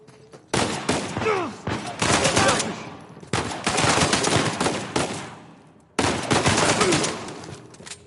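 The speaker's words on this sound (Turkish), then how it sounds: "Patlamaları buradan duyuyorum" Gunfire and explosions in the video game Uncharted 4, loud sustained bursts of rapid shots filling three long stretches with brief gaps between them, no talk over it.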